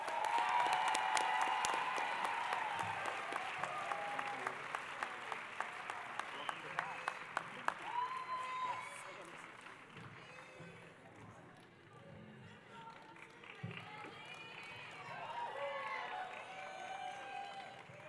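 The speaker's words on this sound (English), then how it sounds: "All the cheering's thrown me off." Loud audience applause with scattered cheers at an awards banquet, a crowd clapping steadily before fading into murmuring chatter and a voice talking over the room.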